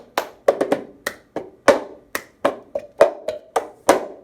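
Sharp hand claps, sweeps and taps on a table from a fourth grade music class hand-rhythm pattern, about a dozen crisp, close strikes in an uneven repeating sequence with quiet gaps between them.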